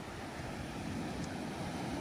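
Sea waves and wind rush steadily around a fishing boat, a close, even wash of surf with faint wind buffeting and no speech.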